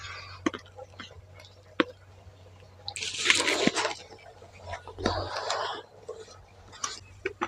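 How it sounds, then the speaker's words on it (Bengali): Warm water poured little by little into flour while kneading pitha dough, heard as close splashes, wet squishing and dripping in irregular bursts, with quiet clicks and handling noises between pours. "এবার এর মধ্যে অল্প অল্প গরম জল দিয়ে ডোটা করে নেব।"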